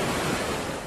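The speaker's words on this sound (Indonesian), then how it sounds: "Kemudian ia menghilang dalam gulungan ombak." Ocean waves roll in at Parangtritis beach on Java's south coast, making a dense, steady wash of surf noise that stays loud and close throughout with no voices.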